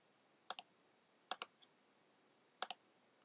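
Mouse clicks on a computer while downloading a plugin file: three quick double-clicks spaced about a second apart, crisp and close, with no talking.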